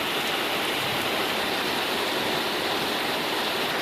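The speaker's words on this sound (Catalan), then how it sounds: "Déu-n'hi-do el que plou." Heavy rain pours down somewhere in West Africa, a dense, loud, unbroken hiss and patter that stays steady from start to finish with no voices over it.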